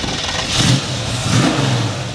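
A 1967 Chevrolet Chevy II with a ZZ4 V8, long tube headers and dual Flowmaster exhaust revs up close and loud, a deep rumbling idle swelling into two throaty throttle blips.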